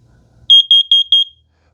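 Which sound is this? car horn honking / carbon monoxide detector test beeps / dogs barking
carbon monoxide detector test beeps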